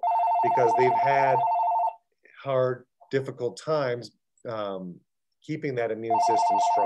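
A telephone rings in repeated bursts at the start and end of a phone conversation, loud and close, with a person talking between and over the rings.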